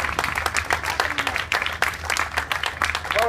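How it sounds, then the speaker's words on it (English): Sustained audience applause at the official opening of a rowing club building extension, dense steady clapping from a crowd throughout, fairly loud and continuous with no talk over it. "Huge clap for Alan."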